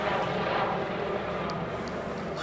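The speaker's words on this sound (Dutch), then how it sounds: "Komt een helikopter aan, hè?" A helicopter passes overhead at a distance, a steady broad rotor and engine drone that holds level throughout without clear approach or fade.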